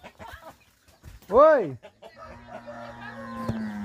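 Chickens in an opened henhouse, one loud, sharp squawking call standing out amid quieter clucks and scuffling, with a person shouting briefly and a low steady hum in the background.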